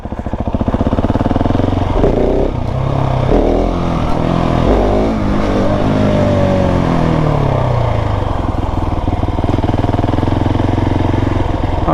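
A motorcycle engine, ridden at low speed during practice wheelies on private ground, revs loudly and close, rising and falling through repeated throttle blips with a continuous rumbling exhaust note and no talking.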